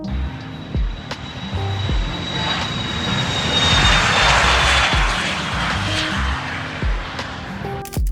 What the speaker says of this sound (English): You can eat and watch the planes and helicopters take off.